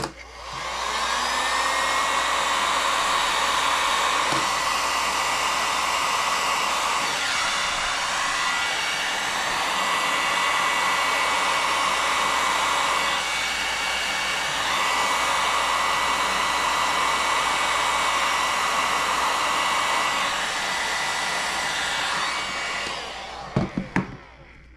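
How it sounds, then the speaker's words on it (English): A heat gun blows hot air onto a plastic piece to bend it, a steady loud whooshing roar held for about twenty-four seconds with slight tonal shifts, cutting off with a couple of clicks at the end. "we're going to take our heat gun and we're going to heat that plastic"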